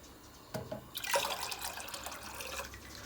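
Water being poured into a pot to make noodle soup, a short splashing trickle that starts abruptly and continues with fluctuating gurgles, fairly close and soft, with no speech.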